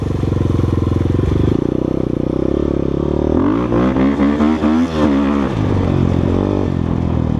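A 2023 KOVI Advance 250 motorcycle engine runs close and loud with a steady throbbing idle, then revs up and settles back into a continuous rumble, with no talking.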